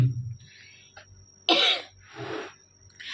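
A person coughs several times, with a sharp loud burst followed by a second rougher cough and a softer throat-clearing sound, close and alone with no talk.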